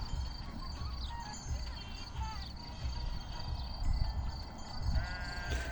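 Sheep in a flock grazing on grass in Romania, with a faint bleat rising near the end over a constant high insect-like whine and low scattered rustling and murmur.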